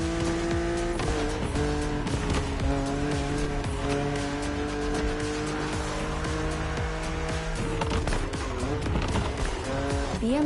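A BMW Z roadster races an aggressive opponent in a driving game, its engine droning steadily with rising and falling pitch and occasional tire squeal, loud and close the whole way.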